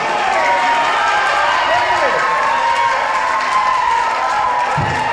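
A crowd at a cooperative bank general meeting in Vellanad claps and cheers together, dense sustained applause with shouts and voices mixed in, loud and close throughout.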